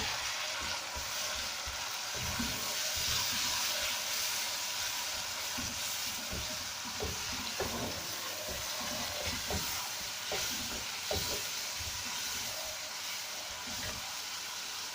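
Chopped tomatoes fry in a pan for a chicken and zucchini dish, a steady close sizzle with irregular scraping and clattering as a spoon stirs them throughout.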